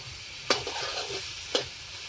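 Pumpkin fries in a pan with a soft, steady sizzle as a spoon scrapes through it twice, each stir a short sharp stroke against the metal.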